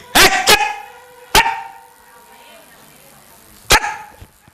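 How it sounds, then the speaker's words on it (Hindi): A dog barks loudly nearby: two quick barks, another a second later, then one more after a quiet pause. "कुत्ता।"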